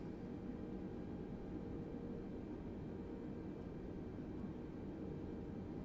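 An Airbus A320neo taxis off the runway in Microsoft Flight Simulator 2020, with a steady, loud engine roar and broadband cockpit hum running unchanged throughout.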